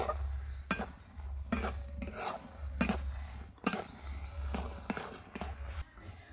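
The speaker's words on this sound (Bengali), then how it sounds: "এইভাবে অনবরত নাড়তে নাড়তে খুব সুন্দর হয়ে কিন্তু ডো রেডি হয়ে যাবে।" A utensil scrapes and stirs thick semolina-based pitha dough in a wok, making repeated rough scraping strokes in an uneven rhythm, close and fairly loud.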